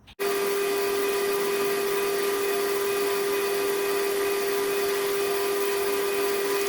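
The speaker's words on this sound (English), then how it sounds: "Just done there is I drilled a pilot hole. Now that's in this piece of metal here." A drill boring a pilot hole into a piece of metal: a loud, steady motor whine with a constant tonal hum starts abruptly and runs unbroken to the end, close and alone with no talking.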